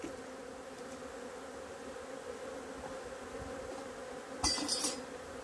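Honeybees buzzing around two hives from an orphaned colony, a soft steady hum with faint clinks of hive equipment near the end.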